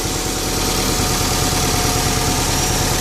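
A 2006 Subaru STI engine with an SPT intake idles steadily and loudly up close, a continuous rumbling drone with no talking.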